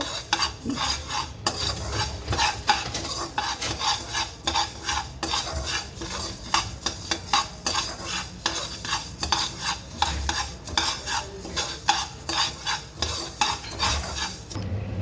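Coriander seeds dry roasting in a large pan, stirred constantly with a utensil, giving a busy rhythmic rattle and scrape close up for the whole stretch, no voices.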